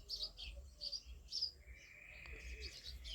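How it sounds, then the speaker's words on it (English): Birds in a countryside garden chirp in short, bright bursts, faint and somewhat distant, with a cooing call near the end over a quiet outdoor background. "So I'm thinking it's the birds. Can you hear them in the background?"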